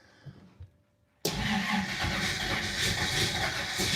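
A 1953 Plymouth engine cranking on a new reduction gear starter: after a quiet pause a sudden loud, steady churning roar begins and continues close up.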